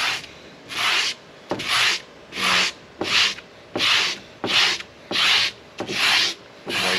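A belt sander cleaner block rubs back and forth across white grip tape on a surf skateboard, making about nine rhythmic, loud, close scrubbing strokes with short pauses between them and no voices.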